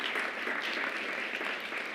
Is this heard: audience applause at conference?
yes